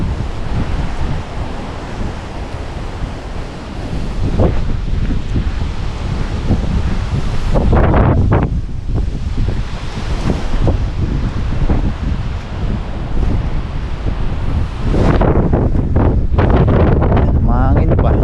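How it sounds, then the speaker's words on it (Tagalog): Wind gusts steadily by the water during a fishing outing, a loud rushing buffet that batters the microphone in surges, with waves and surf churning underneath. "Mahangin pa."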